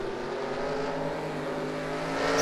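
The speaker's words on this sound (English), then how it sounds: "the pace car speeds off super fast. He hit that turbo boost." A pace car's engine roars steadily and loudly as it speeds off with a turbo boost in a racing video game, a Mobil1 Cup Series stock car race at Thornton. The engine note holds strong and rises slightly at the end, with no talk.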